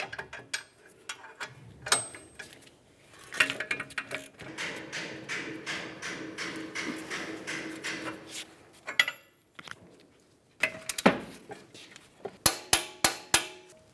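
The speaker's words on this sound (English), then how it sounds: "To tighten this nut, we'll be using a 24mm wrench and an 11mm socket." Metallic clicks and ratcheting come from a 24mm wrench and 11mm socket tightening a control arm mounting nut on a 2009-2019 Ford Flex. Irregular bursts of close, sharp ticks are broken by brief pauses, with no talking.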